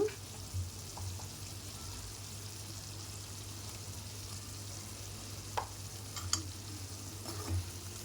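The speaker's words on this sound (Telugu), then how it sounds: "సాల్ట్ కూడా అంతా కలిపేసుకొని" Chicken and salt are stirred in a frying pan, with a quiet ongoing sizzle, a low steady hum underneath and a few soft scrapes and clinks of the spoon.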